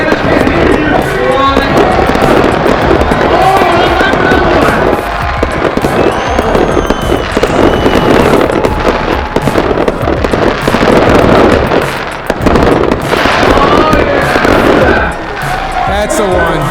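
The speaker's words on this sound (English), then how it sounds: "This is Bomb Box, 144 shots, XL aerial finale set." A Bomb Box 144-shot XL aerial finale firework set fires at night in Las Vegas, a dense, loud, unbroken barrage of rapid bangs and crackles, with people talking and cheering over it.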